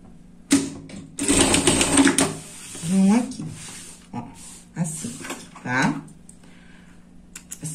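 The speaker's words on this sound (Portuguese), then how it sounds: "Agora, a gente vai passar uma costura aqui, ó, nessa parte redonda aqui, ó, tá?" A sewing machine stitching a padded pet bed, running in short, close bursts that start and stop, with a person talking between and over the runs.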